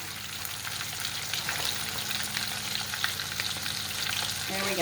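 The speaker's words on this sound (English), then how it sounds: "we'll let our scallops fry nicely" Scallops frying in a pan make a dense, steady sizzle that holds at an even level throughout, close by. A voice speaks a few brief words under it.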